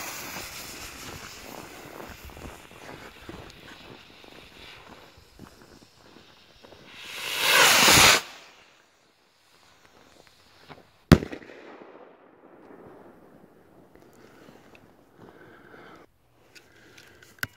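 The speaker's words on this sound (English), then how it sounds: "First rocket." A Black Hole Sun firework rocket from Black Diamond whooshes up with a loud rising hiss, then cracks in a sharp burst, followed by faint crackling and a few distant pops outdoors.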